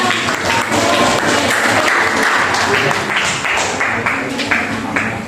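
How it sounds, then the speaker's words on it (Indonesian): Classroom of physics students applauding together, a steady, dense burst of clapping that fills the room at close range for several seconds, with a few voices mixed in. "Beri tepuk tangannya."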